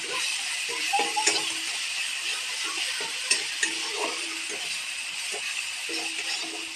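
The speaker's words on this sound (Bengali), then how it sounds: "পেঁয়াজটা আমি কড়াতে দিয়ে দিয়েছি। এবার দেবো আমি আদা রসুন বাটা" Onion with ginger-garlic paste frying in a wok, a steady close sizzle broken by scraping stirs and occasional light metallic clinks of the spoon against the pan.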